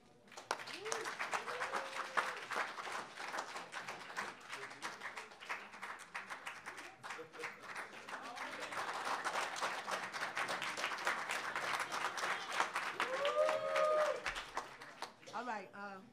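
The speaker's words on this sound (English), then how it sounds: "Give us a round of applause." Audience at an open mic applauds steadily for about fifteen seconds, a dense wash of clapping with a few voices and whoops rising over it near the end.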